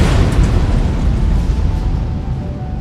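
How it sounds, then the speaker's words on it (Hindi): A storage tank exploding during hot work at an industrial site produces a loud, sustained roaring blast. Dense low rumble fills the whole stretch and eases off only slightly toward the end. "पाइप के जरिए लपटें अगले टैंक में गईं और कुछ देर में उसमें और बड़ा भयंकर धमाका हुआ।"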